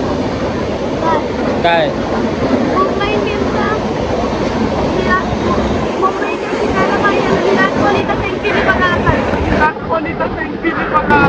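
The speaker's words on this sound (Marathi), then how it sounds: "तर गाईज ट्रेनसुद्धा आलेली आहे आपली." A train pulls into a railway station amid a steady, loud rumble of wheels, wind and crowd noise that fills the whole stretch, with people talking close by over it.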